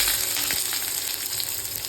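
Pointed gourd and onions fry in hot oil in a pan, giving a dense, constant close sizzle with small crackles throughout.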